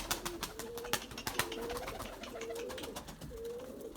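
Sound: pigeons cooing while eating wheat

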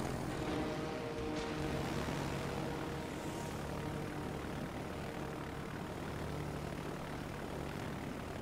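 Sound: propeller aircraft and bombers in a video game

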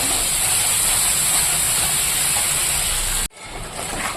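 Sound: spice paste sizzling while being fried in pan

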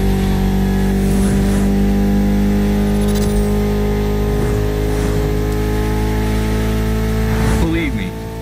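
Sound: inline four cylinder car engine revving in The Crew Motorfest video game

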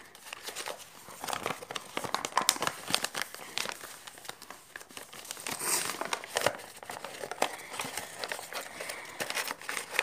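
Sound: paper being folded for an origami star dreadnought

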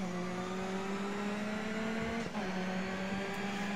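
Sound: Ford Focus race car driving in video game Grid Autosport

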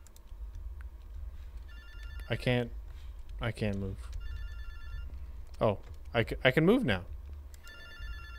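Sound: telephone ringing in a horror video game

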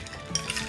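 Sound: stirring a dish while cooking

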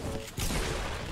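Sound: sniper rifle gunshot in Fortnite video game

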